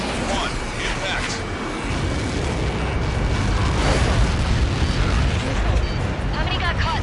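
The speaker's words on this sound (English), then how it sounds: "How many got caught in that explosion?" A massive missile strike detonates in the Ace Combat 7 flight game, a heavy rumbling boom that rolls on for several seconds with dense low-end roar, while a radio voice talks over it.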